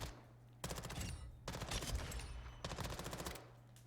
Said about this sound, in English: So this is the Bass. It's the SMG.